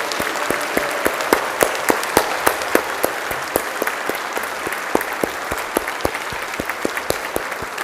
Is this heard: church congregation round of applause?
yes